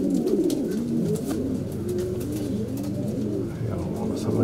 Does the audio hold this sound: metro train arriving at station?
no